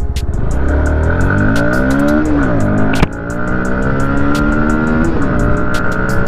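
A Bajaj Pulsar NS200 motorcycle rides along a main highway, its engine loud and close with rising and falling revs through gear changes and a brief sharp knock midway, no talk.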